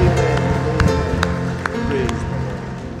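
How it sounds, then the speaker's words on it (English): A church congregation at a Sunday morning service claps their hands in praise, steady dense clapping alongside voices and music in a reverberant hall. "And a mighty hand clap to the Lord Jesus Christ."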